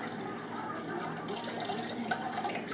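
Liquid from canned artichokes drains into a container with a soft, steady trickle and light splashing. It is close and fairly quiet, with no voices.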